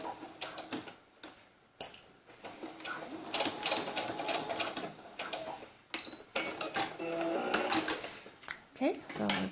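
A sewing machine stitches elastic in place on small doll knickers, its rapid ticking chatter running in short bursts under a voice.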